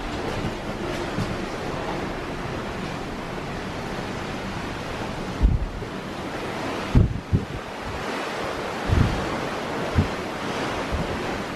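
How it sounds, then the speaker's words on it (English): Open sea heard from a cruise ship veranda cabin on the Celebrity Silhouette: a continuous wash of waves and surf mixed with wind, plus a few louder gusts buffeting the microphone, and no one speaking. "You can even sleep with the veranda door open at night and listen to the sea as you fall asleep."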